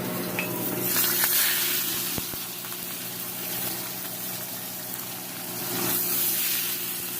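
Fish fillet frying skin side down in smoking olive oil in a pan, a steady loud sizzle with crackling that swells and eases, plus a couple of light clicks.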